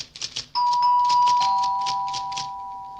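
A doorbell chimes the opening notes of Beethoven's Fifth, starting with light tinkling taps, then sustained ringing tones that fade slowly over the remaining seconds.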